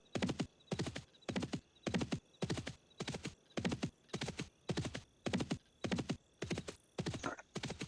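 Steady clip-clop of a summoned mount's hooves in the fantasy online role-playing game Dark Age of Camelot, an even galloping rhythm repeating about twice per second, close and loud with no voices.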